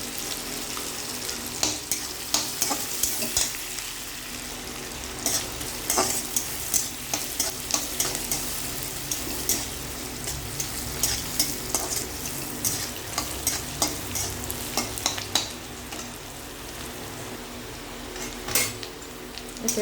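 Onions fry in a pan for an Assamese ripe jackfruit dish, a continuous sizzle punctuated by frequent clinks and scrapes of a stirring utensil on the metal.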